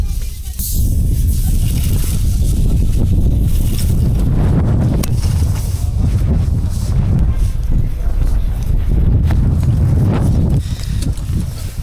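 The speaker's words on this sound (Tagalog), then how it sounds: "Lumalakas na yung hangin." Strong wind roars steadily across a farm campsite in Tanay, Philippines, buffeting the microphone with loud, continuous gusts for the whole stretch, with no one speaking.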